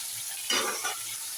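Potatoes stirred and frying in a pan, a soft sizzling hiss with a brief scraping stir in the middle, fairly quiet and without talk.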